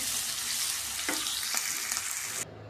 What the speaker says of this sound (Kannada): ಚೆನ್ನಾಗಿ ಸ್ವಲ್ಪ ಫ್ರೈ ಮಾಡ್ಕೊಳ್ಳೋಣ